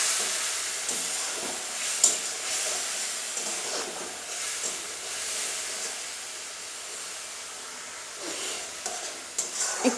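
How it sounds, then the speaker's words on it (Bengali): Spice paste for hilsa bhuna frying in a pan, a steady hiss and sizzle with occasional stirring scrapes, close and continuous, no one speaking. "একটু কষিয়ে নিব।"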